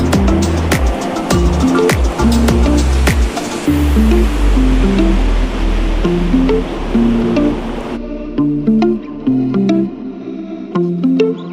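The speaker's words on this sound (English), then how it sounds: "here, the ocean crashes, it pulls" Ocean surf crashing and rolling onto the sand at Carlsbad Beach, loud and close, with repeated wave washes and a steady roar, overlaid by a few sharp knocks and a soft musical backing.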